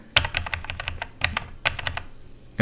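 A computer keyboard pressed in quick bursts while using alt and arrow key shortcuts in the iTerm terminal on a Mac, with crisp close-up clicks arriving in three rapid clusters.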